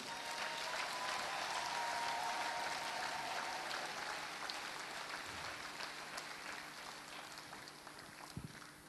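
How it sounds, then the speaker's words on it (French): A church congregation applauds to acclaim the Lord, sustained dense clapping from a large crowd that gradually fades slightly, with a few faint voices underneath. "Est-ce qu'on peut acclamer le Seigneur?"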